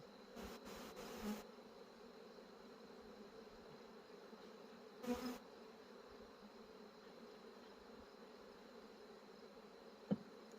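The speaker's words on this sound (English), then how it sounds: "I'm in the bees' way here, so that's why they're a little cranky." Honey bees buzz around a beehive in early September during a goldenrod flow, a steady low drone filling the air with a few louder passes close by.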